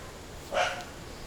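A single short bark from a dog in a coconut garden in Hikkaduwa, Sri Lanka, heard at a middle distance over steady quiet background noise.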